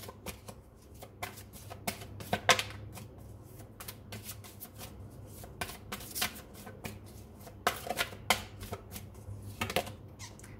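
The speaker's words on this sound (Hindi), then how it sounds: "चलिए यहाँ से कुछ कार्ड निकालते हैं, देखते हैं यहाँ से क्या आता है।" Tarot cards are shuffled and drawn close by, giving a series of crisp riffling and slapping bursts with short pauses between them and no talk.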